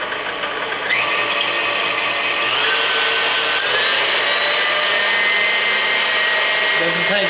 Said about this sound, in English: doesn't take long with this mixer